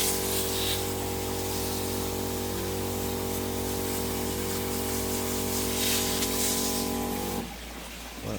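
Rainwater sprays steadily from a watering device onto garden plants, a continuous close hiss over a humming background that drops off abruptly near the end.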